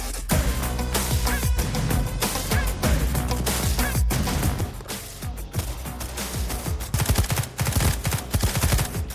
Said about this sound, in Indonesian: anak buah Dev menembaki tempat itu